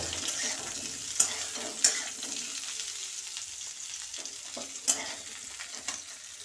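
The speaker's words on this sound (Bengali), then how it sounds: "তেল ভালো করে গরম হলে তাতে কেটে রাখা এঁচোড় আর আলুগুলো হাই ফ্লেমেই 2 থেকে 3 মিনিট মতো সতে করে নেব।" Pieces of green jackfruit and potato sauté in hot oil over a high flame, a continuous close sizzle broken by a few sharp clinks and scrapes of stirring.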